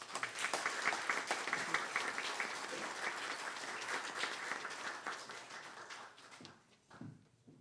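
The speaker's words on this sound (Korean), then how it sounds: "함께 박수로 환영하겠습니다" A church congregation at a Sunday worship service claps in welcome for a visiting lay speaker, a steady dense applause that holds for about six seconds, then thins into a few scattered claps before fading out.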